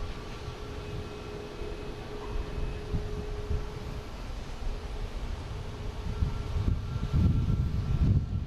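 A Delta Embraer E-175 regional jet on approach to Boston Logan, heard as a steady, distant engine rumble and broadband roar that swells slightly louder toward the end, with no one talking.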